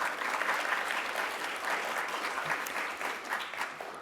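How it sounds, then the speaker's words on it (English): Audience applause at a Cal State Northridge university event honoring an alumnus: sustained, dense clapping from a sizable crowd, heard at a distance and steady throughout. "Another round of applause for Harvey Bookstein."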